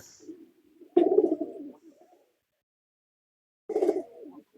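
A local red-and-white pigeon coos close by in two throaty, rolling bouts separated by a stretch of silence.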